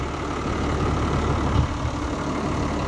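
A tractor engine runs steadily while pulling a plough, a continuous low, heavy rumble that holds at an even level throughout with no talking.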